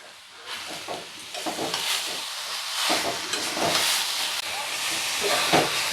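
A jaggery filling for puli pitha is stirred in a pan, giving a steady hissing bubble broken by repeated scraping strokes of a spoon against the pan, close and fairly loud throughout.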